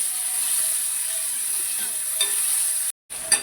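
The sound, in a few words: stirring ginger and garlic cloves in a pan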